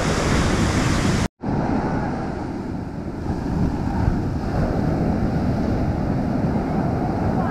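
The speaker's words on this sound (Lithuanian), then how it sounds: "Didelės bangos žiauriai." Big sea waves crashing and washing onto a beach shore, a broad continuous surf roar with wind buffeting the microphone; a brief dropout near the start, otherwise steady and loud.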